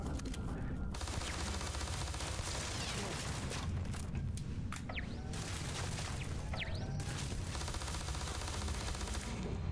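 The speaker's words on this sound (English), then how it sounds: "fucking turrets" Automated turrets firing in Starfield, a constant loud barrage of rapid gunfire with scattered impacts and a few whooshing sweeps, with speech faintly underneath.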